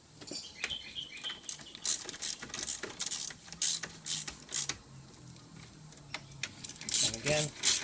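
A ratchet clicks in short repeated bursts while bolts are fitted on a Ford Laser / Mazda 323 cooling system, close and fairly loud, with pauses between strokes.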